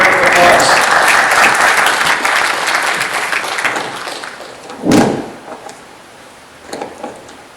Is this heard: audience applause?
yes